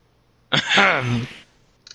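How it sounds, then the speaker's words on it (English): A single throat-clearing sound in the video game Phoenix Wright: Ace Attorney, short and close, with a brief click just after. "Maybe I should clear my throat."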